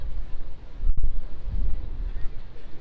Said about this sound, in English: it is a little windy today